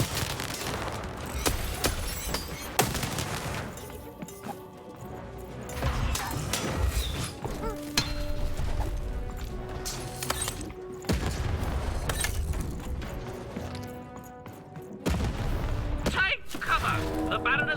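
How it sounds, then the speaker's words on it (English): Cannon fire and battle effects in the video game Lost in Random, several heavy booms and thuds scattered over mechanical clatter and game music, loud and close. "Shoot the button to fire the cannon."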